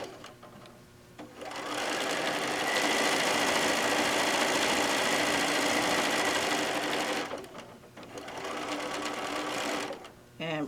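A domestic sewing machine runs a half-inch seam on a fat-quarter tote bag, its steady motor whir and needle rattle sustained for several seconds, pausing briefly, then restarting; a voice talks before and after.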